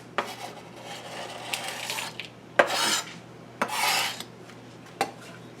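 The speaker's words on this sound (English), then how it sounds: "we're just going to give it a stir" A pork loin stuffing mixture with bacon is stirred in bursts of close scraping and clinking strokes, each a second or so long, with short pauses between them and no talking.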